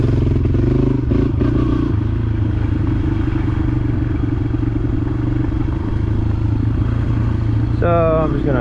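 A dirt bike rides on back roads with a loud, close, steady engine drone and rattling clatter. A brief whine of gear change or revving comes near the end.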